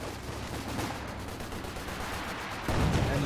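Machine gun fire in the strategy game Company of Heroes 2, dense continuous bursts with overlapping battlefield noise that grow louder near the end, with no talk over them.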